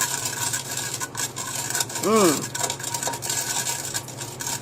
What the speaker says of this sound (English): Then, stir with this straw.